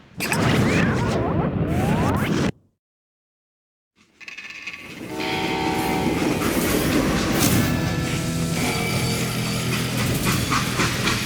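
A freight train in the video game Call of Juarez: Gunslinger rolls with loud rumbling and rhythmic clattering, drops out into a short silence, then resumes steady and heavy.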